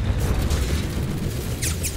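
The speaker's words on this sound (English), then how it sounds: "your cannon does half my health in one shot." Tank cannon fire in Roblox War Tycoon, heard as a dense, loud, rumbling boom that fills the whole short moment, with no talking.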